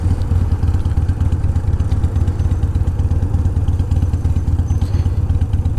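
Carbureted 2005 Custom motorcycle engine running steadily with the wind visor down, a loud, close, low rumbling throb with rapid even pulses and some mechanical clatter.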